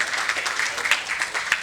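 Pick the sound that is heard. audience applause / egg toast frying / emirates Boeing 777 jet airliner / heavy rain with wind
audience applause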